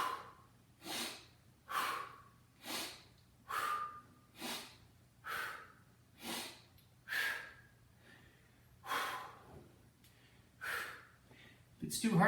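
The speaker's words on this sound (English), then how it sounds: "Listen to my breathing." Heavy rhythmic breathing during a full-body endurance exercise routine, about a dozen strong breaths in a steady pattern, close and loud, alone with no talk.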